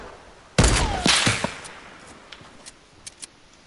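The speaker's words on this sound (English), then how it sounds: "I think we're getting shot at. I heard a snipe." Gunfire in an online shooter match: a loud close crack followed by a second heavy report and echoing tail, then a few fainter distant pops.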